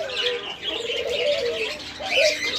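Doves at a large dove farm, a steady chorus of overlapping coos and chirps from many birds close by, continuous throughout without speech.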